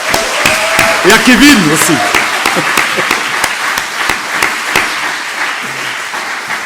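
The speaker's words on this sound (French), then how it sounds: "On va faire un bel applaudissement à Barbara" Congregation applause at a live-streamed church service, a broad wash of clapping running the whole stretch with a voice speaking over it.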